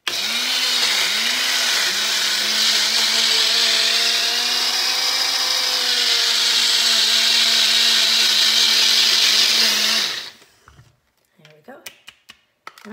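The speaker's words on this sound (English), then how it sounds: "it will only take a minute in my little blender here" A small blender blending a creamy oil-free ramp salad dressing whirs loudly and steadily for about ten seconds, its motor pitch wavering slightly, then cuts off, leaving faint clinks and handling noises.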